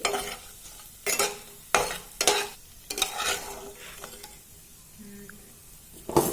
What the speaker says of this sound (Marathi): आता तेलामध्ये तळायचे मसाले आहेत किंवा भाजायचे मसाले आहेत एक तीन चार मिनिट परतायचं